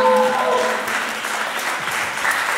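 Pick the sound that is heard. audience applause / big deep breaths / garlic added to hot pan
audience applause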